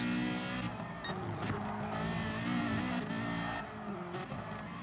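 A Ferrari F40 race car in the video game GT Sport roars through a fast curve, its engine note loud and sustained, with gear-change dips and faint tire noise and no talk.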